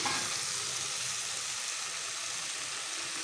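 Broad beans and potato curry fry in oil in a pan with a steady, dense sizzle that holds evenly throughout, close and alone with no talking.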